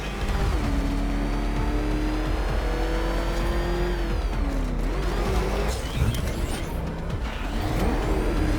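Batmobile engine in Batman Arkham Knight, a steady loud racing roar with shifting pitch as it accelerates and turns, with bursts of tire and mechanical noise throughout.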